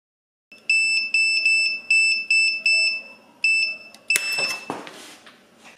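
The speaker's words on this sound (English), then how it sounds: "So I should be getting a beep right now." A continuity tester sounds a series of bright, even electronic beeps in a steady on-off rhythm, close and clear, ending in a brief clatter of handling noise.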